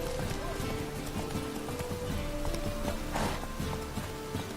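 Roach the horse galloping in the video game The Witcher 3, a steady rapid rhythm of hoofbeats under continuous ambient background sound with a faint voice present.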